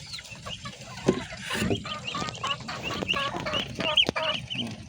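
Muscovy ducks on a farm, fed after rain, give busy overlapping low clucks and calls close by, with rustling and movement throughout.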